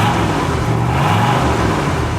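A 1967 Chevrolet Corvette engine rumbles steadily close by, a deep throaty drone with a gritty texture and no voices.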